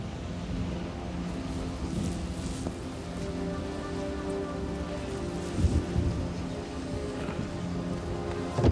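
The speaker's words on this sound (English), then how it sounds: "It's going to rain." Rain falls steadily on surfaces in a wild landscape, a continuous dense patter with occasional heavier drops and faint wind, moderately loud throughout with no talk.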